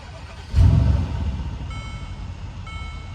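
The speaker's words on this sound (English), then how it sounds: "So start the vehicle." Mercedes-Benz R231 SL550 engine starting up, a brief loud low burst of cranking and catch settling into a steady, fairly close idle rumble with no talking.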